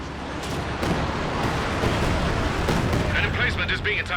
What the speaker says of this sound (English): Making use of the heavy barrage again here, blasting down the center